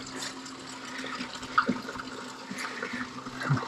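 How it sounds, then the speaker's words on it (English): Water flowing in and out at a beaver trap site, a steady gurgling rush close by with small splashy surges, continuous and without talk. "Water's coming in and out."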